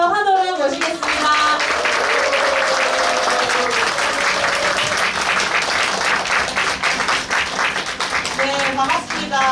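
A large hall crowd bursts into sustained applause and cheers to welcome Basic Income Party lawmaker Yong Hye-in at her Suncheon report meeting, loud and close, with an announcer's voice rising over the clapping at the start.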